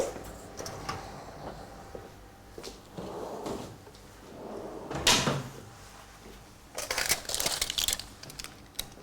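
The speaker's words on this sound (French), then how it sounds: "je vais d'abord aller ouvrir la porte de mon four" An oven door is pulled open in a home kitchen while cooking a heavy casserole dish, giving a few clunks and knocks with rattling metallic clatter and scraping, fairly close, with no talk over it.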